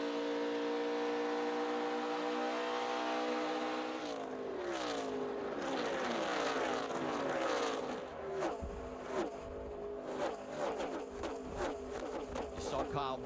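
Packs of NASCAR Nationwide stock cars scream by at the 2012 Indiana 250 at Indianapolis, a sustained engine whine that swells and bends in pitch as cars sweep past, with a commentator talking over it.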